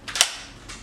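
A magazine is pushed into a TCR Tactical Compact Rifle, giving one sharp, loud metallic click up close, then a softer second click a moment later.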